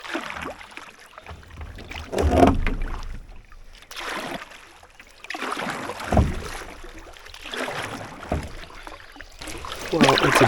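Paddle strokes dip into calm water at an unhurried, regular pace on a still, misty morning, the splashes close and soft against a quiet, windless backdrop.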